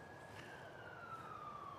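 An emergency vehicle siren wails at moderate distance during a night of stealth camping between fast-food drive-thrus, its tone slowly falling as it approaches and passes over steady traffic rumble.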